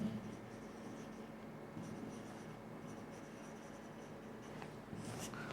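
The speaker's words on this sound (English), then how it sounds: "First step, you must draw rough diagram." Pen or pencil moving over paper as a rough diagram is sketched for a triangle construction, a faint, steady scratching of continuous strokes with small pauses, close and without talk.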